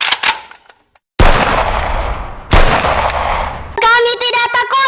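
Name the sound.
gunfire sound effect in Palestinian children drama rehearsal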